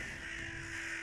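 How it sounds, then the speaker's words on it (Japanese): Many crows gathering and cawing around an old city gate at dusk, a steady, dense cawing texture with no voices. "またカラスがどこからかたくさん集ってきた"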